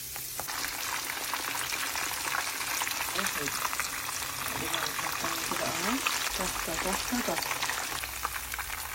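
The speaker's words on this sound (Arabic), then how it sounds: "وبس الزيت يسخن ابتدي بقى احمر البطاطس" Potatoes frying in hot oil in a home kitchen, making a continuous hissing sizzle with soft bubbling and occasional stirring, while a person talks quietly over it.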